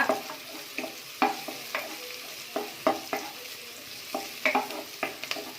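Onion, ginger and garlic fry in a pan for a green chicken gravy, with a steady sizzle and repeated scraping stirs of a spoon against the pan, close and fairly loud, without speech.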